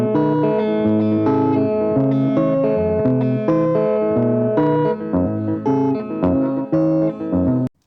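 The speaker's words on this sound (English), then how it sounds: "Let's hear just a guitar." An electric guitar with distortion and effects, recorded through summed 57 and 121 microphones, plays a sequence of sustained chords, loud and up front, with short gaps between some chords before it cuts off.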